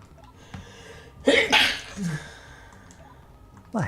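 A single sharp sneeze bursts out loud and close in the middle, with quieter breaths and small clicks around it and a brief vocal sound at the end.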